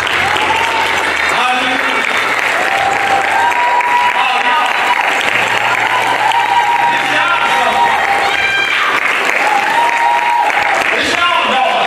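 A church congregation clapping during Sunday worship, loud continuous rhythmic clapping mixed with crowd noise and sustained musical tones, with voices calling out over it.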